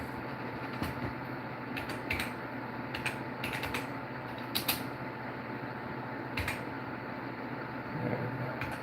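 Fingers typing on a computer keyboard, quick irregular clicking in short bursts over a steady background hum, fairly close and moderately quiet.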